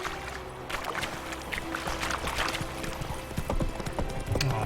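A horse's hooves clip-clop steadily along a road in the Witcher 3 video game, a continuous close rhythmic trot with a faint low background hum.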